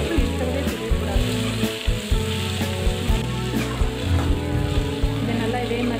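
Chopped tomatoes and onions sizzle steadily in a pan for pav bhaji, a continuous close frying hiss with occasional stirring scrapes, while a person talks over it throughout.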